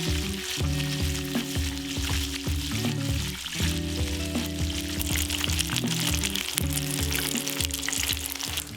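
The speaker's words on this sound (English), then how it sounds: "fry them at a higher temperature for 1 minute on each side" Loud, continuous sizzling and crackling of karaage chicken frying in hot oil at a higher temperature, steady and close, with no talking.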